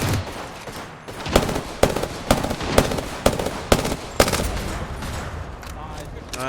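Rapid weapon fire in the battle royale shooter Apex Legends during a ranked match, a burst of loud sharp shots in an uneven rhythm that tails off into quieter background noise, with players chatting faintly under it.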